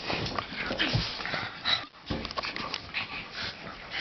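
Two dogs fight in a house, a close, chaotic burst of snarls, yelps, whimpers and scuffling that rises and falls with a brief pause midway.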